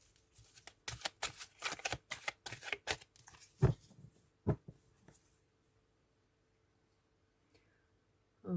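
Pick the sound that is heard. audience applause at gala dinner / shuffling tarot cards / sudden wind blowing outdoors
shuffling tarot cards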